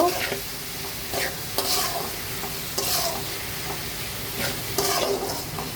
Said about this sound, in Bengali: আদা রসুন আর হলো লবণ দিয়ে পেঁয়াজটা ভেজে নিব